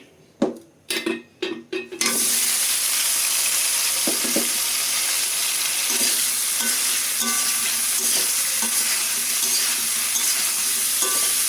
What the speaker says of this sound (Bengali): আগে বেগুনটা ভেজে নেব আমি।